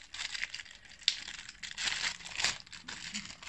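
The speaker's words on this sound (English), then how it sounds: "this is just a plastic bag from a well-known supermarket." A thin plastic supermarket bag crinkles and crackles in short bursts, with a sharp snap and tearing-like rustles, close and fairly quiet with no talking.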